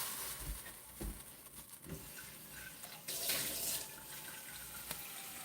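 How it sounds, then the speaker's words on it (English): Water runs steadily from a tap into a cooking pot as it fills for boiling noodles for a pasta dish, a close, continuous splashing with small shifts in pitch and a brief louder surge midway. "Now we're gonna fill this up with water and noodles"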